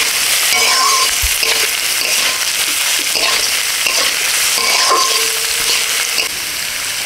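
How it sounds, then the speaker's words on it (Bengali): Chopped onions frying with lightly fried carrots in a pan for chira pulao, a loud continuous close sizzle with stirring scrapes throughout, no talking. "এবার পেঁয়াজ কুচি দিয়ে দিচ্ছি"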